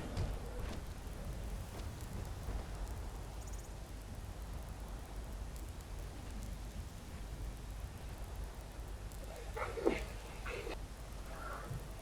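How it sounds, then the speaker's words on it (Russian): A lightning staff cast in Skyrim gives off a continuous, crackling, hissing electrical roar at moderate level, with a few sharper zaps near the end. "Какая хорошая вещь этот посох молний."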